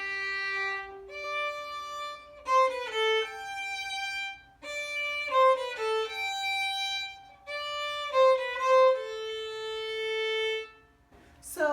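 A violin plays a slow, continuous phrase of a well-known film theme, with clear sustained bowed notes and brief gaps between phrases, solo and close.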